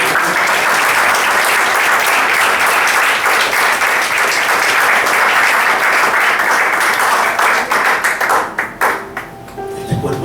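Church congregation applauding during a Spanish-language service, loud sustained clapping from a full room that thins out and fades over the last couple of seconds as a voice returns.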